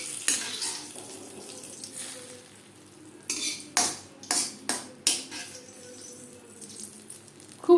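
Fried chilli, cumin and bay leaf tempering poured into a pot of masoor lentil dal with papaya, giving a few sharp metal clinks and brief bursts of hiss and sizzle against a quiet kitchen background, with no talking.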